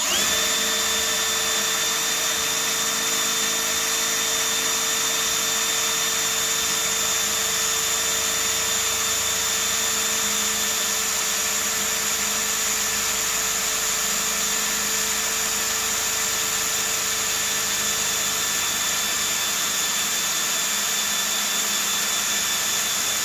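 Milwaukee and Ryobi cordless drills run with a 1/4 bit, a loud continuous high-pitched motor whine with steady tonal hum sustained throughout, close up and without voices.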